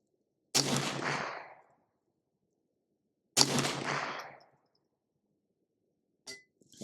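A .22 rifle in a precision chassis fitted with an MDT SCS-Lite fires 40 grain copper-plated hollow point rounds at a 50-yard target. Two loud, sharp shots ring out about three seconds apart, each decaying quickly, with a faint click near the end.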